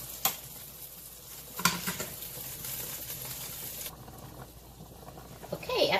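Garlic cooking in a pot for chicken feet soup gives a steady, moderate sizzle with occasional stirring clatter, and a couple of sharp utensil knocks against the pot.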